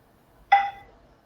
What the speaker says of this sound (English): I'm going to add a little chime noise.